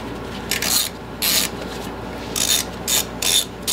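A hand ratchet loosening 3/8 inch bolts on a locked engine, several short bursts of fast clicking, each lasting about a third of a second, close and crisp against a quiet background.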